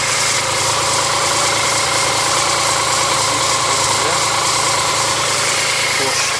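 A BMW K75 motorcycle engine idles after a cold start, a steady, even mechanical hum with constant vibration and no revving, close and continuous throughout.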